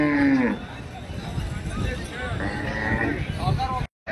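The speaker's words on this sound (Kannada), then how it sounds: "ಆಕಳನ್ನು ಸೇರಿದವು, ಎಮ್ಮೆನೆ ಸೇರಿದವು." Cows and buffaloes at a Saturday cattle market in Gadag: a loud, close moo opens, followed by further lowing calls over a busy crowd babble with people talking throughout.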